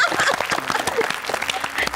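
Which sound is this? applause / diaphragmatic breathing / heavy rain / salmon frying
applause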